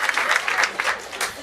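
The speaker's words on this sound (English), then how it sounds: "Clap your hands, yeah." Audience at a live stand-up comedy show clapping, a brief steady burst of applause from a modest crowd lasting about a second and a half.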